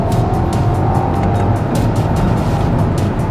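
A BMW XM driving on the road, its engine droning loudly and steadily while tyres hiss and roar over the surface, with no pause in the continuous close noise.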